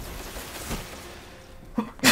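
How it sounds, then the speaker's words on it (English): A person sneezes, with soft breathing and quiet background sound before a sharp burst near the very end of the short clip. "I am sneezing way more than I should"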